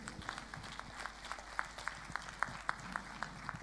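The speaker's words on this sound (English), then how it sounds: "Please clap for them." Scattered clapping from the audience at a regional health sector performance review meeting, faint and sparse with a few distinct hand claps over a low room hum and faint voices.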